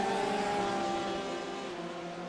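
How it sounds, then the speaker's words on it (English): Porsche race cars with rear-mounted flat-six engines drone steadily around the Le Mans circuit in an endurance racing video game. The engine note holds a sustained harmonic tone that slowly fades, with no talk over it. "The sound of those beautiful Porsches, those flat six engines in the back of that Porsche"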